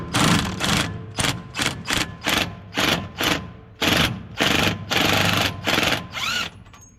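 An impact wrench loosening a bolt on a Gleaner R52 combine hammers in a series of about a dozen loud, close, rattling bursts, each under a second, separated by brief pauses.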